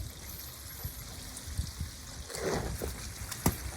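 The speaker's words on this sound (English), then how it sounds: "you can hear the water flowing" Water flowing and trickling from a gray water tank valve on a CrossTrek XG21 trailer, a soft steady stream with a few clunks and splashes, nearby and moderately quiet.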